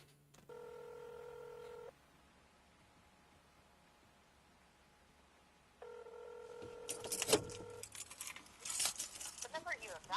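A telephone number is dialed: two separate runs of loud electronic touch-tone beeps, each a sustained tone, stand apart over quiet background hiss, followed by noisy rustling and crackling handling sounds.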